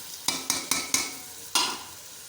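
Chicken pilau rice being fried in a pot, with five sharp scraping stirs of a spoon against the pot, four in quick succession and one after a pause, over a faint sizzle.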